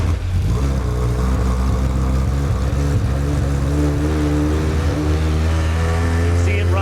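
A K20-powered 2013 Wolf GB08 CN race car's engine starts from cold and idles, a loud, steady, low-pitched drone that is close and continuous, with a slight lift in pitch partway through.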